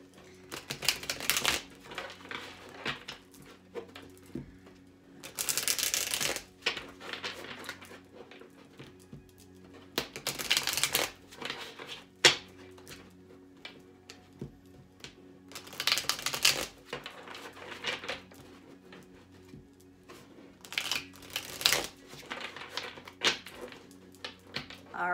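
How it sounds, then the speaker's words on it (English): Tarot cards being shuffled by hand, repeated bursts of crisp riffling and flapping separated by quieter pauses, close and clear across the whole stretch with soft handling taps between. "let's get some shuffles in before we get to Scorpio"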